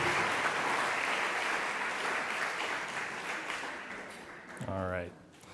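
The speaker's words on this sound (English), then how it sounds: "Give them another round of applause." An audience claps for performers after their music, a broad wash of applause that slowly fades, and a voice begins talking near the end.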